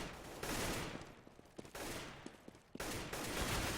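Bursts of rapid gunfire in CS:GO on the Cache map, fired into smoke in a pro league match, loud sustained sprays broken by short gaps with scattered single shots between.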